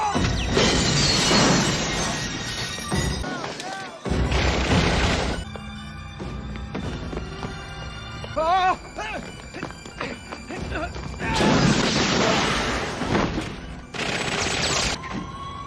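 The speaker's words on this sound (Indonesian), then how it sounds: "Chogar beserta pengacaranya meledakkan penjara itu" Loud crashes, shattering debris and gunfire-like bursts come from an action scene in a Jackie Chan film where a prison is blown up. Heavy impacts come in several bursts separated by quieter stretches with tonal effects.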